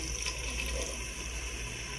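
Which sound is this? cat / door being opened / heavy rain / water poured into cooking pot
water poured into cooking pot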